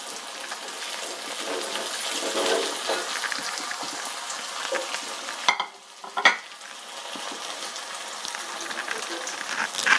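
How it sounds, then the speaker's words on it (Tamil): Large onions with salt sauté in a pan for sundakai vetha kuzhambu, a bright, continuous sizzle that briefly drops out and then returns with stirring clatter. "இந்த வெங்காயம் வதங்குற அளவுக்கு மட்டும் உப்பு"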